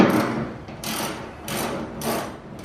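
A wrench works a 13mm bolt loose from the upper mount of a truck tailgate, giving three or four short, rhythmic ratcheting bursts about half a second apart, close and fairly loud.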